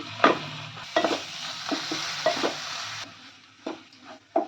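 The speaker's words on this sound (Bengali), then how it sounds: "আমি তিন চার মিনিট নারকোলটা ফ্রাই করে নেব মশলার সঙ্গে" Grated coconut frying with spices in a pan for an ash gourd curry, a close sizzle under repeated scraping stirs, with no talking.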